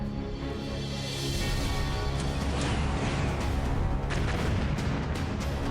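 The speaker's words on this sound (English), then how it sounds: "I'm going to throw a missile like here maybe. He's going to missile me too." Missile strikes land in Mechabellum, a series of dense, booming explosions that grow louder and rumble on continuously with sharp crackling bursts layered over the barrage.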